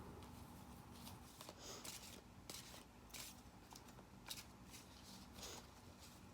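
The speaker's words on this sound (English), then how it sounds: "I'm going to shuffle the deck." Soft, rapid riffling and flapping of cards being shuffled, repeated in several bursts, close and quiet.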